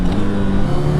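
Exhaust of a 2025 Honda CB1000 Hornet SP motorcycle revving hard, a brief loud steady engine roar at close range with no voices.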